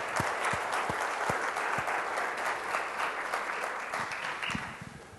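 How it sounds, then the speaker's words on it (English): Audience at a MivaCon 2014 keynote conference session applauding steadily, a dense wash of clapping that holds at even volume for several seconds before easing slightly at the end, with no voices over it. "Everyone give Brennan a hand."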